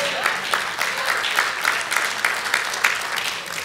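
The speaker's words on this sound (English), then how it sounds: "Thank you for that one dozen hand claps." A church congregation claps their hands during a Sunday service, a scattered run of individual claps and patters close by that keeps going unevenly the whole time with no pauses.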